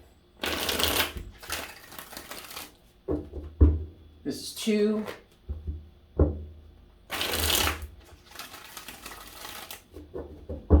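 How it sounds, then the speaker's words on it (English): Tarot cards are shuffled in several riffled bursts, close and crisp, with brief gaps between them and a short spoken remark in the middle. "I'm going to give this 3 shuffles here."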